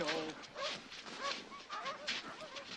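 Sled dogs barking and yipping in excited overlapping bursts, several animals close by with some whimpering mixed in, fairly loud and continuous.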